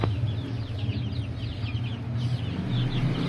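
Young guinea fowl about one to one and a half months old and chicks call in a poultry pen, with repeated high chirps and clucks over a steady background hum.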